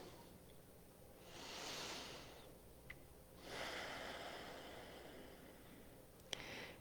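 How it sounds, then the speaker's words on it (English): Slow, deep breaths drawn in during a tai chi practice, heard as two soft, airy inhalations close to the microphone with quiet pauses between them and a faint click near the end. "just deep breaths in"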